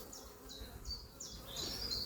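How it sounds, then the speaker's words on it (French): A calm honeybee swarm humming at its hive, a faint, continuous buzz with individual bees droning past close by in short swells. "Donc ça, c'est un essaim qui a marché."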